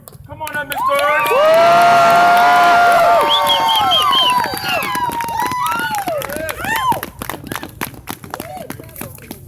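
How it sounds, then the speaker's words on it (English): A crowd at an outdoor evening march for justice in Charlottesville bursts into loud cheering and whoops with scattered clapping. The roar peaks early, then eases into mixed shouts and a few voices. "Let's give a round of applause for my good friend,"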